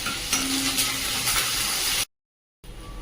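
Curry leaves and crushed garlic sizzle in hot oil with a bright, steady crackling fry that cuts out abruptly for a moment and then resumes.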